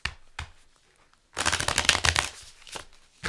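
Tarot cards shuffled by hand in a fast riffling burst, dense papery flutter lasting about two seconds after a few soft card taps, then a couple of quieter slaps at the end.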